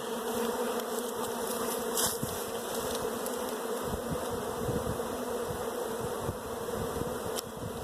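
Honey bees fly in and out of a hive entrance carrying pollen, a dense continuous buzzing drone of many insects close by, with no talking.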